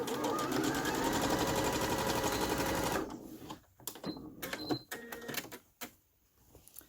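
Sewing machine stitching a fabric seam for an Easter nest craft, a steady, loud mechanical whirr for about three seconds that stops abruptly, followed by scattered handling clicks and rustles.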